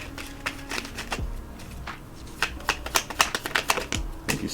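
Tarot cards being shuffled by hand in a quiet room, a run of crisp, close riffling clicks and flutters that grows busier in the second half, with no one talking.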